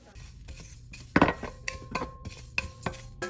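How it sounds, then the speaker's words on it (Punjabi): Whole coriander, cloves and black pepper dry-roasting in a pan, with irregular metallic scrapes, clinks and rattles as the spices are stirred, close and moderately loud. "ਲੌਂਗ ਤੇ ਬਲੈਕ ਪੈਪਰ ਵੀ ਵਿੱਚ ਹੀ ਪਾ ਕੇ ਮਸਾਲਿਆਂ ਦੇ ਭੁੰਨ ਦੇਵਾਂਗੇ"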